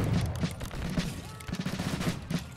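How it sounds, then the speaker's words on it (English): Rapid musket volleys crack in a dense, overlapping burst during a Battle Cry of Freedom battle, repeated bangs rolling on loudly for the whole stretch. "Looks like they're volley firing."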